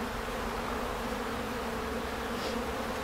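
Honeybees hum steadily at an opened hive during a walk-away split as foragers bring in red and orange pollen, a close, continuous drone with no talking.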